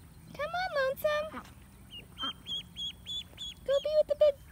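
Ducks quack in short harmonic bursts around a farmyard with goats, several calls clustered at the start and end, with a person talking nearby.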